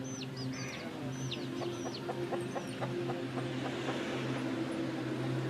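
Chickens clucking around a rural home in India, short bursts of clucks repeating through a steady low hum of farmyard background, with a few high chirps early on; no one speaks.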